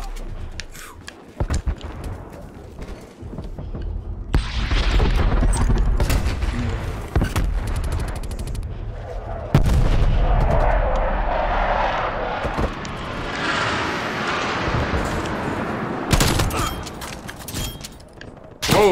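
Gunfire in the video game Black Ops Cold War, bursts of shots and booms mixed with aircraft engine drone, loud and close through most of the stretch with a few sharp cracks.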